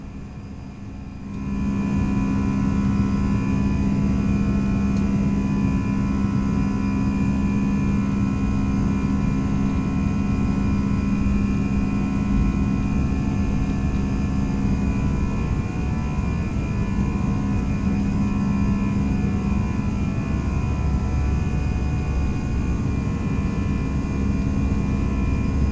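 Airbus A319 jet engines at climb thrust in X-Plane 11 rise after a brief quiet start into a steady, loud whining drone with a constant hum that continues unchanged.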